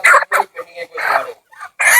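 Live chickens in a poultry shop cluck and squawk in short, close bursts separated by brief gaps, loud and near, with little else around them.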